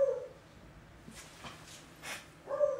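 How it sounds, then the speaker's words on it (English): A dog barks several times in short, faint bursts, sounding indoors and somewhat distant over a quiet background. "That is a dog barking."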